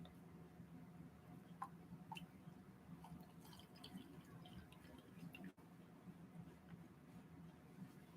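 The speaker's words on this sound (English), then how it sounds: "take your water, and then you'll just fill up the jar almost full" Water poured into a glass jar, a soft continuous trickle with a few small splashes and drips, close but quiet.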